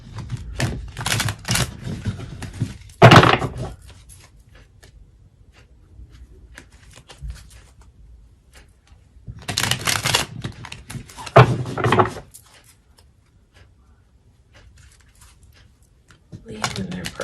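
Tarot cards being shuffled in a few separate bursts of crisp riffling and flapping, broken by quiet gaps, with talk in between.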